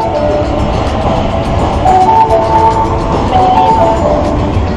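A train pulling into a Bangkok station, loud rumble and rolling noise with faint tonal squeals and chimes rising partway through, close and continuous.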